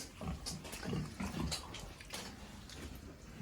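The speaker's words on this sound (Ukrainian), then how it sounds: "Багира, Цим поросятам 5 месяцев." Five-month-old pigs being fattened grunt in short rough bursts at close range, several overlapping snorts in the first half and then quieter shuffling noises.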